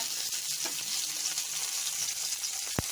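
Mustard seeds, curry leaves and dried red chili fry in hot ghee, a continuous bright sizzle close by with one sharp pop near the end.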